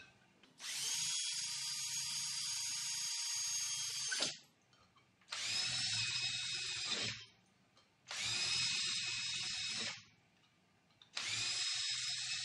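Steel trunking being drilled with a 4.5mm bit: four loud, close bursts of a high, whining power drill, each lasting a couple of seconds and separated by short pauses.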